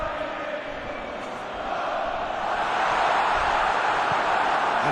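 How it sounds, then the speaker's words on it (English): Steady roar of a football stadium crowd in a video game, a dense broadband wash of many voices that swells slightly louder toward the end, continuous and distant rather than individual shouts. "Crowd appreciates good football all round there."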